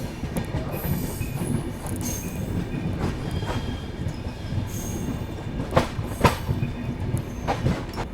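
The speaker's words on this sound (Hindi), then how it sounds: "ट्रेन जो है अपनी चंदौक अराइव कर रही है।" Dehradun–Subedarganj Express (14114) rolling into a station, a steady loud rumble of wagons over the rails with rhythmic wheel clatter and a few sharp squeals and clanks near the end, no talk.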